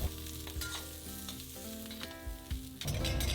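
Onions and peppers are stir-fried in oil in a wok over medium-high heat for sweet and sour pork, with a loud, close sizzle and repeated clanks and scrapes of the utensil against the wok.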